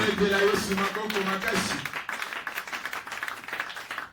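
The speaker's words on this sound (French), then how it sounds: "Acclamez très fort pour la gloire." Church congregation at a Sunday service clapping and cheering together, a dense burst of applause that thins into scattered claps, with voices over the start.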